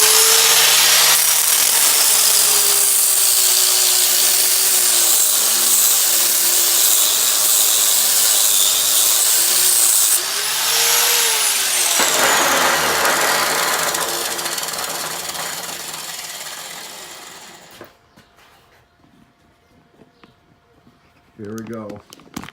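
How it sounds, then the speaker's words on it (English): A flap disc grinds across the face of a small anvil under restoration, a loud, steady abrasive roar with pitch shifts as the disc moves, fading out toward the end with a brief clatter. "I'm going to go across all three with a flap disc again."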